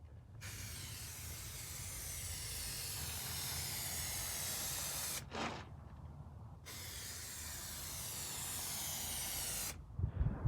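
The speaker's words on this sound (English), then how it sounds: "When you're using that contact adhesive, it's important that you spray both sides of the piece that you're going to stick together." Aerosol contact adhesive sprays in long steady hissing bursts onto a Mercedes R107 SL door seal, loud and close, with two brief pauses and clicks between them.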